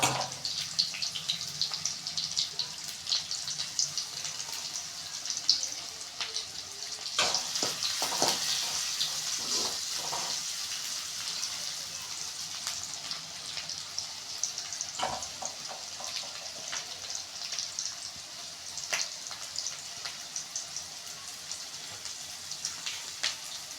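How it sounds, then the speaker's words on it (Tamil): Onions fry in a pan for egg fried rice, a steady bright sizzle running throughout, with a few clattering stirs and scrapes of a utensil against the pan around the middle. "வெங்காயத்தை நல்லா வதக்கிக்கலாம்."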